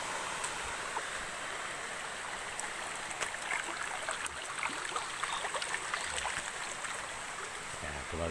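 Stream water flowing downhill, a steady broad rushing wash that stays constant and fairly close throughout, with small splashy ticks on top and no pauses.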